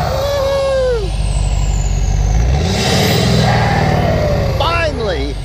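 A truck engine fitted with a new exhaust and turbo runs loud and close, with a deep steady rumble, rising and falling whistling tones, and someone talking over it.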